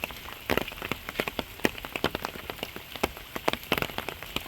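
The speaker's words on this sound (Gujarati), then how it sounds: "જબરજસ્ત વરસાદ આવ્યો છે." Heavy monsoon rain on the road in Mudhasana, a dense, close patter of drops striking surfaces in rapid irregular bursts, steady throughout with no talking.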